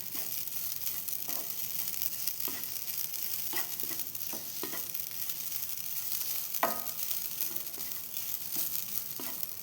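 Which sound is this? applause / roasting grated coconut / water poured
roasting grated coconut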